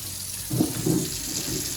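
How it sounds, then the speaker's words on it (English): Hot water runs from a tap over hands being washed at a kitchen sink, a steady hiss with soft splashing bursts as the hands move under the stream. "when you wash your hands, a little quick tip for you guys, you always gotta use hot water"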